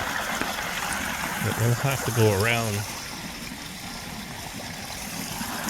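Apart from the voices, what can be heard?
small waterfall of a spring trickling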